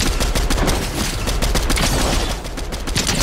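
Rapid gunfire in the video game Fortnite, a loud, dense fusillade of overlapping shots crackling continuously for a few seconds, with no speech over it.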